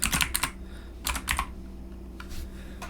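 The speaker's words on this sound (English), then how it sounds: "you guys are going to hear me kind of clicking around here just a little bit" Mouse and keyboard clicks tapping in quick clusters while tracking players in NHL 24 Draft to Glory franchise mode, crisp and close, with pauses between bursts over a steady low hum.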